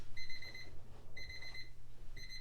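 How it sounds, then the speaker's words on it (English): Digital kitchen-style timer beeping in quick repeated bursts, three clusters of sharp high electronic beeps separated by short pauses, fairly faint over a low steady hum, during a home myofascial release stretching session. "So there's our timer."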